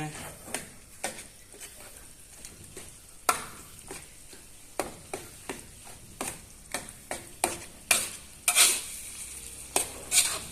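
Rohu fish roe being stirred in a hot pan, a spatula scraping and tapping the metal in irregular sharp knocks over a soft background sizzle.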